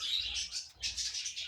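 Budgerigars chirp in rapid, overlapping bright tweets from a breeding pair kept for mating, in two dense bursts separated by a brief gap, close and fairly loud with no talking.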